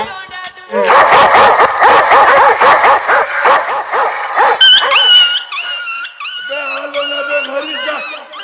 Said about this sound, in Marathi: हे कुत्रे इकडे भुकतेत ना.